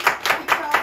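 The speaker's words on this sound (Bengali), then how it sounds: "সবাই হাততালি প্লিজ।" Hands clap four times in an even, moderately close rhythm at a cooking competition event held in Paris, with no other sound standing out.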